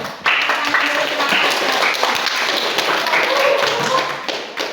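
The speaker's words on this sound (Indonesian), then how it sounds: "sekarang beri aplaus dulu" A classroom of students applauds a group after its presentation, steady dense clapping sustained for several seconds with some voices mixed in.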